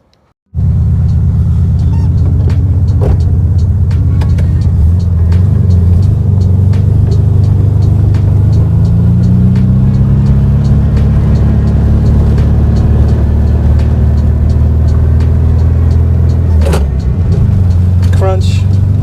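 A 1967 VW Beetle's air-cooled engine drones loud and steady for the whole drive, holding a constant low rumble with faint pitch shifts as it runs, and no talk over it.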